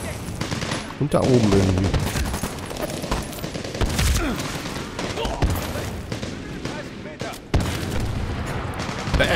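Medal of Honor: Warfighter video game gunfire, with steady machine-gun fire and heavier thumping shots under someone speaking, loud and continuous with a few sharp louder cracks.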